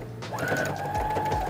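Sewing machine stitching fabric for a creative sewing basket project, a steady mechanical whir with fast rhythmic needle clatter running throughout the short stretch.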